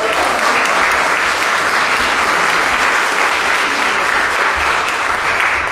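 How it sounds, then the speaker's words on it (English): Sustained, loud concert-hall applause from an orchestra audience greeting the principal flute soloist, a steady dense wash of many hands clapping throughout without a break. "Give her a round of applause."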